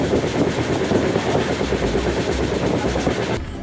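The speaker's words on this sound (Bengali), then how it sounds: "দেখতে পাচ্ছেন বন্ধুরা, আমাদের ট্রেন এখন ঢুকছে নবদ্বীপ ধাম রেলওয়ে স্টেশনে।" The Puri–Kamakhya Express, an Indian passenger train, running into Nabadwip Dham station, heard from inside a general class coach as a loud continuous rumble and rattle of wheels and carriage.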